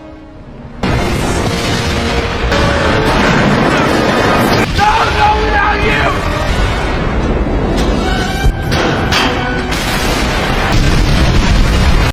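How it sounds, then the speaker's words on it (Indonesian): A loud, sustained roar of explosions in a film, with heavy booms and crackling debris, dense and overwhelming from start to finish. "tempat tersebut akan meledak"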